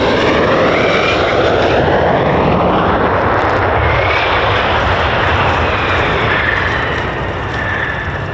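An F-15 jet makes an emergency landing with its tailhook catching a runway arrestor cable, heard as a loud, sustained roar of jet engine noise that fills the whole stretch with no break.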